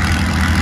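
Antique Massey Harris tractor engine at a tractor pull, a steady low loaded rumble holding even and loud throughout a brief moment.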